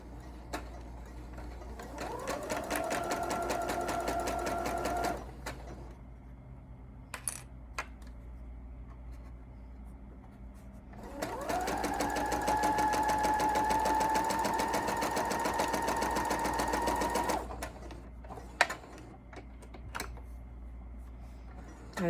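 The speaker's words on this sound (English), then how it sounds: "Then we'll sew another 1/4 of an inch down." Sewing machine stitching quilt fabric in two steady runs a few seconds long, with a loud mechanical whir and a pause between them. Faint clicks of handling follow, and no one speaks.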